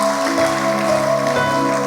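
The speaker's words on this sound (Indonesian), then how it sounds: "Kasih tepuk tangan dulu buat Tuhan Yesus." A church congregation clapping during a Sunday service, a brief burst of applause heard alongside a sustained musical tone, probably a keyboard chord.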